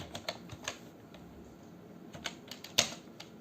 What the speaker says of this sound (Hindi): जो भी हेडिंग्स हैं वो आप यहाँ पर टाइप कर सकते हैं